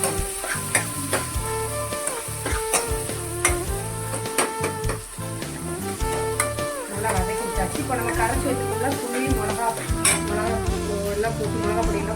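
Onions and tomatoes sauté with rock salt in a pan for a South Indian fish curry, giving a steady sizzle with occasional stirring scrapes, partly masked by continuous background music.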